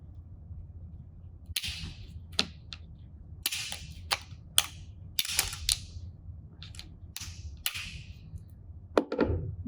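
A metal colander being cut with snips gives a series of sharp, crisp clipping snaps at irregular intervals, some in quick pairs, close by and alone over a quiet background.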